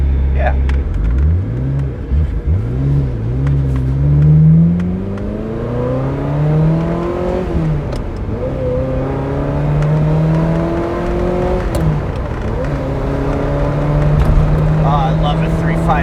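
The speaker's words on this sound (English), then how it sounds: "I love a 355 manual. These motors are so crisp with the ITV throttles." A Ferrari F355 with a manual gearbox and individual throttle bodies revs on a test drive, its engine note climbing and falling through repeated gear changes, loud and close inside the car, with people talking over it.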